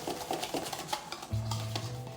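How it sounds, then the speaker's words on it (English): Savoury pancake batter made with chicken stock is beaten in a bowl with a utensil, giving quick clinking, scraping strokes, followed by a steady low hum from the kitchen. "So you can just beat this thoroughly and then just let it sit"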